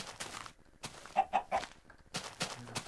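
Minecraft chicken clucks, a quick run of three short clucks in the middle, with scattered other noises before and after.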